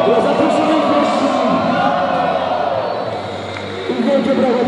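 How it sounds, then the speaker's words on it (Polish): Large crowd of supporters at a Silesian junior championship medal ceremony cheering and applauding the players, a steady loud roar of voices and clapping that dips briefly and then swells again. "Wielkie brawa dla zawodników, wielkie brawa dla działaczy, dla zaproszonych gości."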